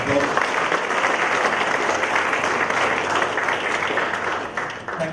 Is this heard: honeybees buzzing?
no